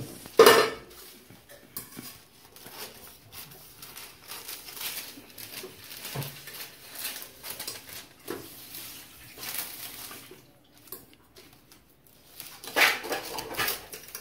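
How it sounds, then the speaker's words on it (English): A knife runs around the bottom of a pan holding a Jamaican sorrel fruit cake, giving faint intermittent scraping and light metallic taps over a quiet background, with a sharper clink near the start and end. "I cut it around the bottom of the pan."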